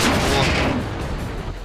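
A KV tank's 152mm gun fires in World of Tanks at close range, a loud boom that sets off a broad blast and then trails into a long rumbling decay, heavy and close.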